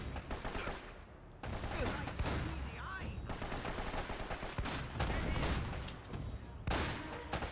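Rapid, dense gunfire fired from the hip in the Uncharted video game hammers almost continuously in loud bursts, with only a brief lull before the shooting resumes.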